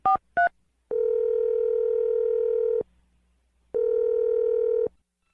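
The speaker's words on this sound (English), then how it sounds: "I'm going to dial the number right now" Telephone tones heard clearly and close with no talk: two quick dialing beeps, then two long steady ringback tones separated by a gap of silence.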